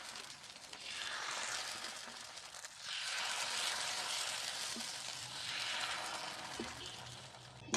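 Dosa batter mixed with spring onion and coriander sizzles steadily on a hot tawa, a quiet, continuous frying hiss that swells and eases in gentle waves.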